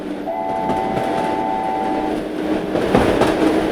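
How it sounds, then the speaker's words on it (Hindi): A train speeds along in an animated 3D Islamic children's cartoon, with a steady rumble of wheels on rails, a short horn blast near the start and a rising clatter toward the end, with no speech. "ट्रेन तेजी से डॉल की तरफ बढ़ते हुए"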